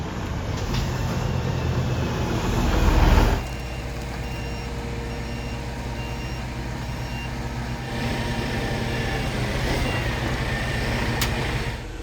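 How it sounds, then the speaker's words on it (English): A concrete lorry arrives at a house build site for a footings pour, its reversing beeps and heavy diesel engine rumble running steadily throughout with no talk, a louder burst of engine noise around the third second. "Our first concrete lorry is finally arrived."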